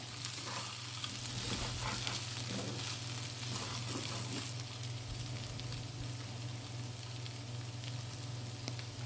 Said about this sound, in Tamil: இந்த மாதிரி அடியிலிருந்து நல்லா வந்து மிக்ஸ் பண்ணி விட்டுக்கோங்க.